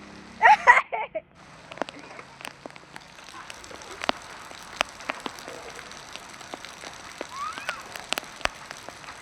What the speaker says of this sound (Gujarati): ઘણા દિવસે વરસાદ આવ્યો